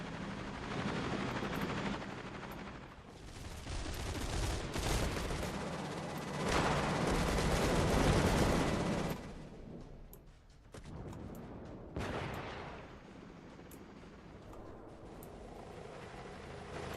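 Cannons and guns fire nonstop in the zombie video game Cepheus Protocol, a dense, loud barrage of blasts and rattling gunfire that thins out after a long roaring stretch.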